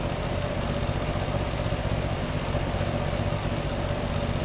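A boat engine idles steadily in the Stormworks video game, a continuous mid-low drone holding an even level throughout with no voices.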